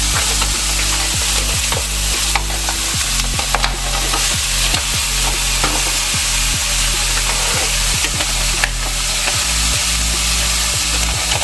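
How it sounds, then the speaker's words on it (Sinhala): A spatula scrapes and stirs kimchi fried rice in a hot pan in a steady rhythm of strokes over a constant loud sizzle, heard close up with no voices. "දැන් මේකට බත් එකතු කරගන්නවා."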